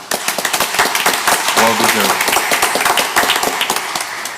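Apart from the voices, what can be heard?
round of applause for the staff at a board meeting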